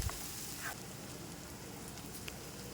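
Garlic cloves and onions sautéing in hot oil in a pan, a soft, steady crackling sizzle with a few faint pops, quiet and close with no voices.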